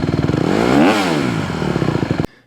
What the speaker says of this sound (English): blip the throttle to about half and let go